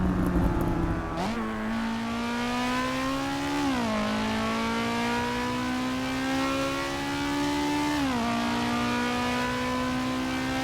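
A racing engine in the video game Assetto Corsa Evo drones loudly and steadily, its pitch dropping sharply at each upshift before climbing again, with no talking.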